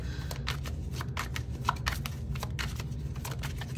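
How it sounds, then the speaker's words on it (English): Tarot cards being shuffled in quick riffling bursts, repeated rhythmically over a low steady hum, close to the listener, with no talking. "I want to get a good shuffle."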